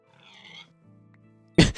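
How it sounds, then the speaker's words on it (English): A Minecraft pig oinks in a short, close grunting call, followed by a quieter lower grunt and then a loud abrupt burst of game noise. "That pig just kind of died out of nowhere."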